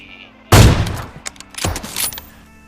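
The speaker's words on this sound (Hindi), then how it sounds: "यहाँ पे मैंने उस बंदे को 2-2 AWM के बॉडी शॉट मारे" AWM sniper rifle shots in the mobile battle royale game BGMI: a sharp, loud blast, then a second crack about a second later, each trailing off with game ambience.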